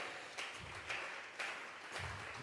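A church congregation claps as an offering of praise to God, heard as a few rhythmic swells of moderate, somewhat distant applause across a couple of seconds, with no voices over it.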